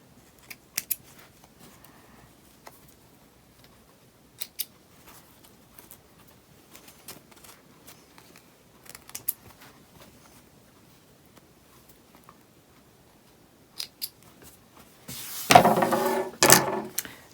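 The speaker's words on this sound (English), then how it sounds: "Now all we have left to do is trim up these threads." Scissors snip threads on fabric cord keepers near the end, a short cluster of close crisp cuts after a long stretch of near silence with scattered faint clicks.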